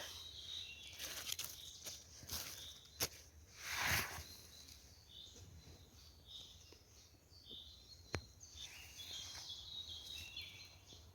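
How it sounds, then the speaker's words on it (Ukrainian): Birds chirp and sing in a forest in scattered short calls across a quiet outdoor background, with a few faint rustles and soft steps nearby. "Сонечко зійшло, пташки в лісі співають."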